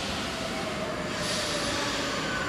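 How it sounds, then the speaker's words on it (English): Rome metro train arriving at a deep underground station, a steady loud rumble of railcars with a high wheel squeal rising partway through, no voices. "Every time I go to the metro, it just amazes me how far down these things are."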